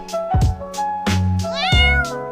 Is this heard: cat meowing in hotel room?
yes